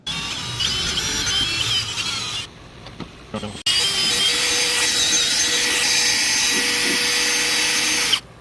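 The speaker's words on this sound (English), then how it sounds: "the 3000 grit and the buffer ball is done on the high speed setting on the drill" A power drill on its high speed setting spins a buffer ball against a plastic headlight lens during a Mothers NuLens headlight renewal, giving a steady close whine and rubbing hiss that drops out briefly, then resumes loud and continuous.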